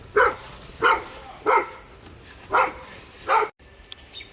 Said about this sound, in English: Neighbor's doggies. That's Grizzly back there.